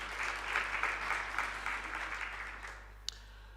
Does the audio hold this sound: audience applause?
yes